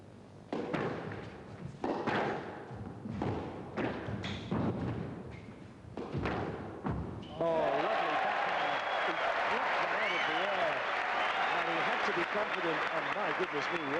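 After several hard ball thuds and a commentator's voice at the 1993 British Open squash championship, a crowd bursts into sustained applause that fills the rest of the clip.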